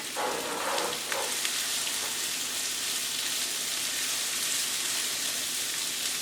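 Vegetables for a vegan dip sizzle in a hot pan, a steady bright crackling hiss throughout with a few louder sputters near the start, close and without talk.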